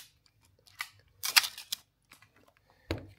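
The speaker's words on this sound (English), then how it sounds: "Hold it with your left thumb, release the shutter," A few sharp mechanical clicks from a Canon A-1 film camera, then a quick ratcheting burst as the shutter fires and the film advances, one more click near the end.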